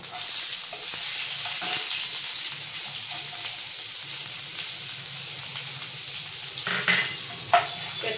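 Chopped onion hits hot oil already tempered with bay leaf and whole cumin, giving a bright, constant close-up sizzle and hiss that carries on alone, with a couple of brief stirring knocks near the end.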